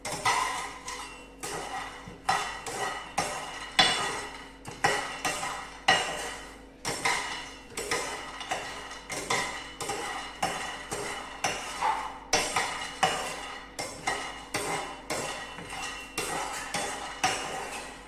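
A spatula scrapes and clinks steadily against a hot pan while ingredients are stirred and roasted for homemade chocolate, producing close, rhythmic metallic strokes at a brisk, even pace. No one speaks.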